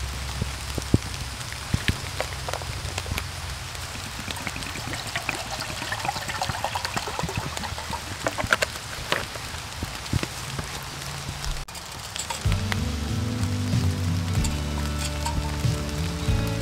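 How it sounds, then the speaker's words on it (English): Steady rain patters on a wild campsite where a small improvised stove fire burns, a continuous close hiss of drops that shifts to a denser, more resonant drumming near the end. "Too much rain."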